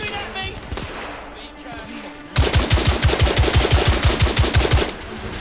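Video game gunfire: after a stretch of busy game sound, a long burst of rapid automatic shots hammers out in an even, fast rhythm, loud and close, with voices mixed in.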